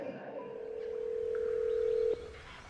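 A telephone line gives a single steady tone that holds unbroken for about two seconds and then cuts off, fairly faint against a quiet room.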